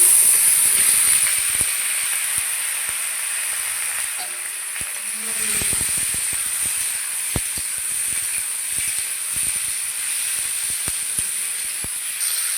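Onions and green chillies already fried, then tomatoes and potatoes go into the pan for a raw-tomato fish curry, giving a steady close hiss of frying with scattered clicks and knocks throughout.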